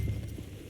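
Horse hooves clip-clopping in Red Dead Redemption 2 as a big horse is mounted before riding into town, a short run of close, low, steady thuds.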